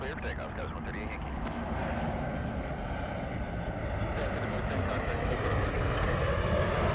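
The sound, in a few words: aircraft taking off from runway 24 left at LAX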